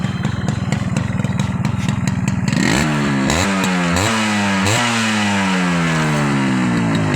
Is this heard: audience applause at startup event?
no